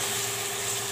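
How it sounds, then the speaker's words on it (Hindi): Wild melon and potato sautéing in a pan over medium flame give a steady, close, moderate sizzle with a faint stir near the end. "अच्छे से भूनेंगे इसको। अब तकरीबन 10 से 15 मिनट तक इसको हम भूनेंगे,"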